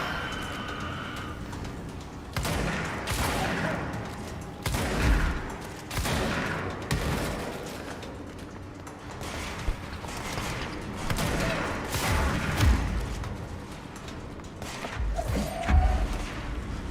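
Gunfire in the video game Control, a series of sharp shots and bursts spread through the clip over a busy game soundscape, with a few louder impacts near the start and end.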